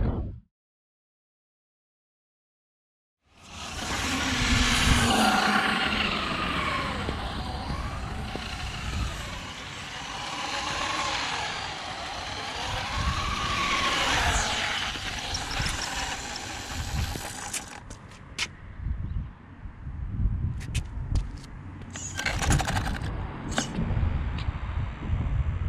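An SST 1929 V1 1/10 scale waterproof RC car driving through brush, a whiny electric motor with gear and ratcheting clatter, rising and falling with bursts of scraping, close by after a few seconds of silence.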